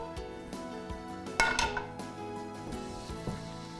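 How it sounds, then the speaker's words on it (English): Blender parts knock and clink as they are fitted back together, with a few hard plastic and glass taps over a low, steady background hum. "So here's our blender going back together."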